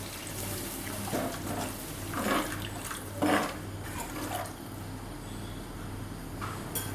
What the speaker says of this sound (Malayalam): നമുക്ക് ഇതിലേക്ക് ആവശ്യത്തിനൊരു വെള്ളം ചേർക്കാം